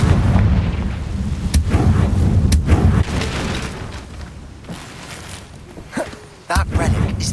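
Confringo fire spell blasts in the video game Hogwarts Legacy: several sharp booms and crackling impacts over a dense rumble of combat, with a few isolated bangs near the end.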